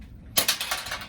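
A small light bulb is twisted out of its socket beneath a microwave, producing a quick run of close, gritty scraping clicks after a brief silence.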